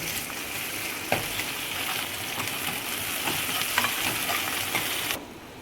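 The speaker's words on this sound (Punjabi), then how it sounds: "ਹੁਣ ਆਪਾਂ ਪਾਵਾਂਗੇ ਲਸਣ ਅਦਰਕ ਤੇ ਹਰੀ ਮਿਰਚ ਜਿਹੜਾ ਆਪਾਂ ਪੂਰੀ ਚ ਕੁੱਟ ਕੇ ਇੱਕ ਚਮਚ ਆਪਾਂ ਪਾ ਇਹਨੂੰ ਆਪਾਂ ਪਿਆਜ਼ ਦੇ ਨਾਲ ਆਪਾਂ ਭੁੰਨ ਲੈਣਾ" Crushed garlic, ginger and green chilli frying with onions for Amritsari papad sabzi, a continuous close sizzle with repeated stirring scrapes and light taps, no talk, cutting off abruptly at the end.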